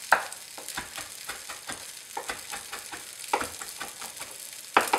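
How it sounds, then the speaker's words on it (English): Tofu steaks sear in a hot frying pan, a soft continuous sizzle broken by irregular crackles and pops, with a few sharper spatters standing out. "So tofu's been on for 2 minutes each side, and looking lovely and seared on that second side"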